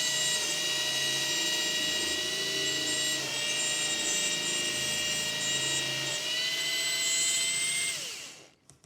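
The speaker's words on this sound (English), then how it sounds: "it very smoothly cuts through the trim, the board, and doesn't snag" A cone drill cutting through trim board makes a steady, high-pitched whine with strong harmonic tones, running continuously for several seconds, then cutting off abruptly at the end.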